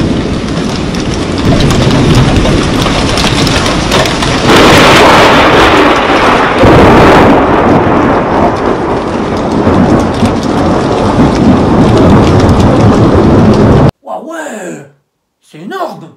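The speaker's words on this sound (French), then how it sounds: "un gros coup de tonnerre, là par contre c'était au moins 50 mètres facile" A heavy thunderstorm with steady rain pounding a surface and big rumbling thunderclaps swelling over it, loud and close for about fourteen seconds before cutting to a person talking briefly.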